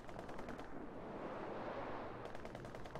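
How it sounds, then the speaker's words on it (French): Enemy machine gun fire in a WWII strategy video game, heard as dense, rapid rattling bursts at a faint, distant level inside a busy battlefield din, with the bursts easing briefly in the middle before resuming. "Mitrailleuse ennemie"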